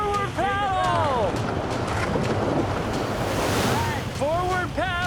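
Loud, steady roar of whitewater rapids churning around a raft on a Class 5 river, with wind buffeting the microphone throughout and voices and shouts breaking through at the start and end.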